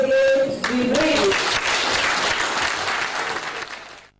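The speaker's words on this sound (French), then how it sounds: "par une salve d'applaudissements nourris." Hearty applause breaks out in Cameroon's National Assembly as its newly elected president is announced, a dense sustained round of clapping that follows a brief voice and fades out near the end.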